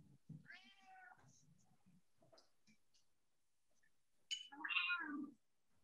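A cat meows indoors during an art class: one drawn-out meow, some faint clicks and rustles, then a louder, rising second meow near the end.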